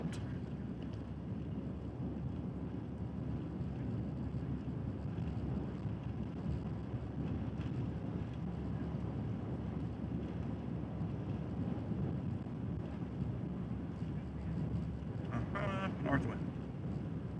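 A north wind blows in a continuous, fairly faint low roar and buffets the microphone outdoors, with a few brief higher chirps near the end.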